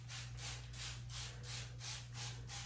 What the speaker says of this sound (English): I'm gonna take this spray bottle, just water in here,